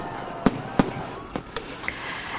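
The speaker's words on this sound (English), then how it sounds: "It's a spectacular fireworks show there and a great end of a great day." Victory Day fireworks over Moscow, with several sharp distant bangs and crackling bursts spaced irregularly over a low crowd and city murmur.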